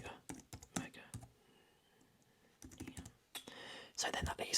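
Close, quiet typing on a computer keyboard, given as ASMR: bursts of rapid key clicks separated by a near-silent pause, with soft whispering faintly mixed among the keystrokes.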